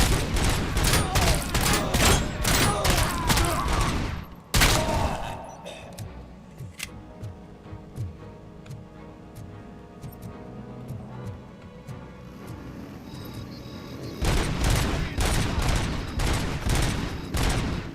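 Rapid bursts of gunfire from shooting bikers in Robocop: Rogue City, loud dense volleys at the start and end with a quieter stretch of scattered shots and rumble between.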